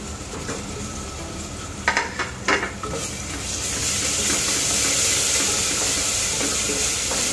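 Ginger garlic paste sizzling and frying in a pan while being stirred for a spicy soybean pulao cooked in a cooker, a steady close hiss that swells louder after a few scraping stirs.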